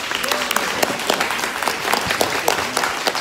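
An audience at a student app pitch presentation event claps loudly for the teams, a thick, continuous burst of many hands with scattered sharp claps and a faint murmur of voices underneath.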